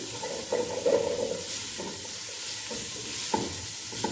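Ingredients for a restaurant-style spicy chicken hot and sour soup are stirred in a hot pot, a continuous sizzle and hiss with a few soft scraping strokes of a spoon, close by.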